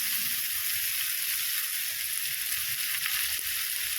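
Spices frying steadily in a hot pan for a bottle gourd stem curry with masoor dal, a continuous close sizzle with faint stirring throughout.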